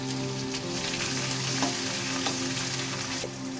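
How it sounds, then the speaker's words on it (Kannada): Peanuts, dal, onion, carrot and beans fry in oil for rava upma, giving a steady rain-like sizzle with occasional soft stirring, close and moderately quiet, with no talking. "ಕರಿಬೇವು, ಹಸಿಮೆಣಸಿನ್ಕಾಯಿ ಹಾಕ್ಕೊಂಡು ಚೆನ್ನಾಗಿ ಫ್ರೈ ಮಾಡ್ಕೊಳ್ಳೋಣ."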